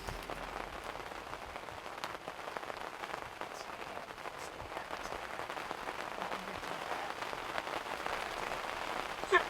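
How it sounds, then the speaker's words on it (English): Rain patters steadily on roofs, a dense, soft crackle of countless small drops spread evenly across the stretch at moderate distance, with an occasional slightly louder tap near the end; no voices. "the pitter-patter of rain hitting the roofs"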